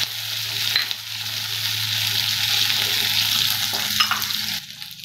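Small onions and garlic sauté in hot oil for an onion-garlic chutney, giving a steady, close sizzle and fry with occasional stirring scrapes throughout.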